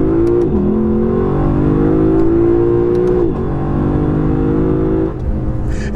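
A 2021 Lexus LC500 engine revs loudly from inside the cabin in manual mode, its pitch dropping sharply at each quick upshift with a short crack, then climbing again.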